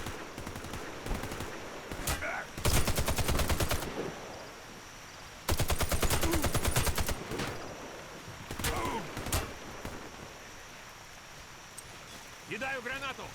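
Gunfire in the shooter game Warface: two long, loud bursts of rapid automatic fire, separated by short whizzing and clicking effects and quieter gaps, with faint game sounds in between.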